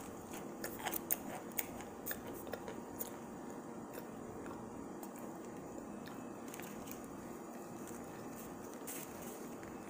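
Someone bites into an arrowroot starch brick close to the mic, a string of sharp, dry crunches and snaps coming mostly in the first few seconds, then fainter chewing crackles over a quiet background.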